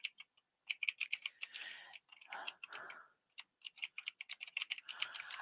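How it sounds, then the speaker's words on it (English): Rapid clicking of a computer keyboard being typed on in irregular bursts with short pauses, close and fairly quiet, with no talking over it. "and type this in."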